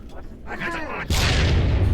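A frag grenade in Halo 3 ODST goes off as a sudden loud, broadband blast about halfway through, its rumble sustaining to the end, after a brief stretch of quieter game noise with a faint voice-like tone.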